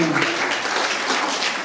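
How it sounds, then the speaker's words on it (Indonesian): Wedding guests applauding the couple, a brief burst of close, dense clapping that fades out, with a voice speaking over it. "berikan tepuk tangan untuk keduanya."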